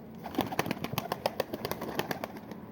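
Pet pigeons in a coop coo and flutter close by, a dense run of short soft calls and wing flaps with no talking.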